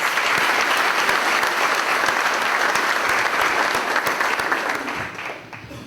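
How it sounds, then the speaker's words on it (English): Round of applause from the audience at a Walton County Chamber of Commerce meeting, dense steady clapping from a large crowd that holds for about five seconds and then fades out near the end. "Let's give them all a big round of applause."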